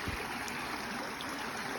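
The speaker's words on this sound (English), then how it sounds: "The water's probably kind of loud." Free-flowing stream water on a hiking trail near Hurricane, Utah, a steady broadband rush that stays even and fairly loud throughout, with no voices over it.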